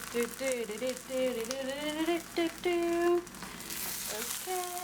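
A tortilla sizzles in a hot skillet as it is flipped while making Mexican enchiladas, a steady close hiss running beneath a talking voice.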